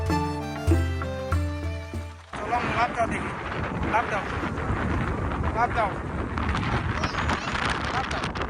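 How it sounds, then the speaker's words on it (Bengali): Strong wind buffets over steady rain at a river ghat, a dense roaring rush that follows a short burst of music, continuing loud and unbroken. "এদিকে বৃষ্টিও বেশ ভালোই শুরু হচ্ছে এবং জোরে বাতাস হচ্ছে"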